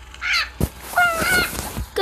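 A parrot squawks several times in quick succession, harsh, loud and close, with brief gaps between the raspy calls.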